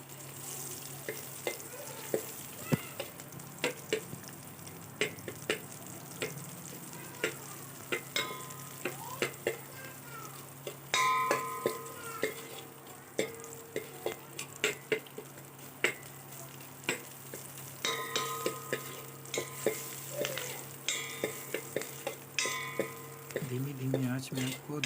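Moong and masoor bhaji fry gently on low heat in a traditional kitchen, a soft steady sizzle broken by frequent clinks and scrapes of a spoon stirring against the pan.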